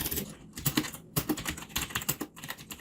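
Fingers tap out a quick, uneven run of clicks on a computer keyboard, close and clear, with no talking over the keystrokes.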